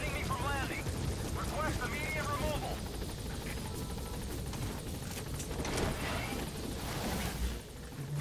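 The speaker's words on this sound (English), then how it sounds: "Support helicopter has arrived." Support helicopter in Metal Gear Solid V: The Phantom Pain, a steady low rotor drone under sustained game noise and music, with brief chirpy sounds early on and no clear rotor chop standing out.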